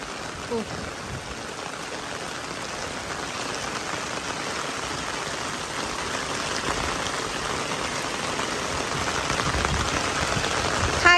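Heavy storm rain pours steadily onto surfaces and runs off in streams, a dense, loud hiss that holds for the whole stretch and swells slightly toward the end, with no voices over it.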